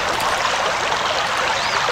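A flowing rivulet in the video game Anna, a steady loud babbling trickle of water that runs continuously without pauses and with no speech over it.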